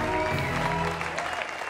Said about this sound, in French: On va les applaudir très fort, s'il vous plaît.